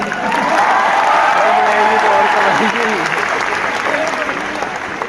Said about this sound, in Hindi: तालियों में आवाज आनी चाहिए।